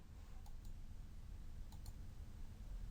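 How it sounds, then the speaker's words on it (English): Two pairs of quick, faint mouse clicks in software, small and close, over a steady low hum. "Let's just click on OK."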